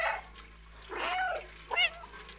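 A cat meows in the video game Stray, giving two short, moderately loud calls over a soft background hum.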